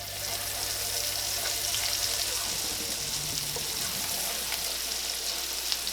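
Sizzling and bubbling in a pan used for salmon, liquid hitting the hot surface to lift the browned bits while making Tuscan salmon pasta, a steady frying hiss with some stirring scrapes and faint voice underneath.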